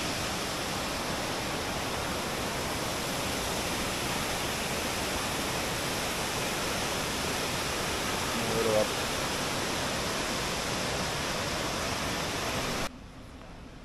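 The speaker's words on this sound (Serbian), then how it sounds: "Naravno, uz reku i" A mountain waterfall beside a river in Romania roars as a steady, broad rush of falling water, loud and continuous, cutting off abruptly near the end.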